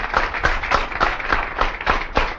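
An audience in a seminar hall claps in a fast, even rhythm, loud and close, with no other sound.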